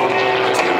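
Propeller plane flying aerobatic arabesques at the La Ferté-Alais airshow, a steady loud engine drone with a sustained tone holding throughout the brief moment.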